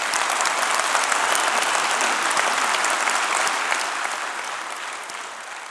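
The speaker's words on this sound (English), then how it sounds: "Let's give him a clap." Steady applause from a sizable keynote audience at EVE Fanfest 2015, dense and even throughout, slowly tapering off toward the end.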